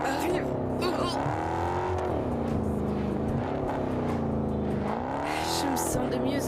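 Car driving, a steady engine drone that rises and falls in pitch as it changes speed, continuous and close, with a voice speaking over it.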